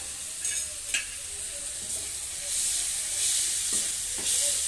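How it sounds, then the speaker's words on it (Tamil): Snake gourd and potato pieces being stirred with masala in a pan, a steady frying sizzle and hiss running throughout, with a few sharp scrapes and clinks from the spoon against the pan. "நல்லா இப்போ கிண்ட வைக்குவோம்"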